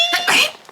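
A single close, sharp sneeze bursting out, followed a moment later by a brief spoken exclamation.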